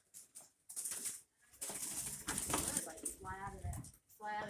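Soft pigeon cooing sounds close by, with fluttering and rustling noises and a person talking over the birds.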